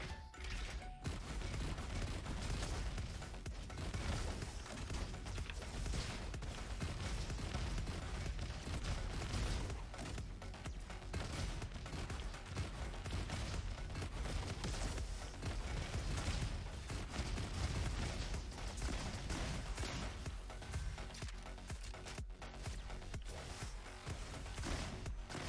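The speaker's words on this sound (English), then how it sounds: "It's a rocket shotgun." A rocket shotgun fired in a video game: dense, continuous blasts and explosive bursts overlap into a loud, unbroken barrage lasting the whole stretch, with no voices.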